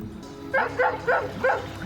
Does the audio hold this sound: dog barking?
yes